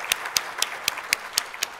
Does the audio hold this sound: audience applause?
yes